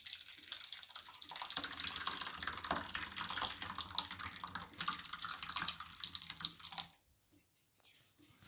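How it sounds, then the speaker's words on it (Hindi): Strained milk pours in a steady liquid stream through a strainer while it is being cooked, loud and continuous for about seven seconds before breaking off into faint drips. "ये अब हम दूध को छानने लगे हैं।"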